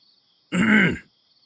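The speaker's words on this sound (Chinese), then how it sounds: "这才是清了清嗓子" One short throat clearing, close and distinct, in otherwise near silence.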